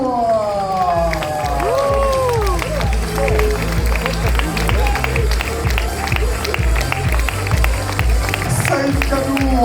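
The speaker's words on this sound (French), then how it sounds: "Un tonnerre d'applaudissements pour le Marocain" Crowd at the awards ceremony of a 10 km road race in Les Sables d'Olonne claps and cheers steadily for the Moroccan winner, a dense continuous wall of applause with a voice talking over it throughout.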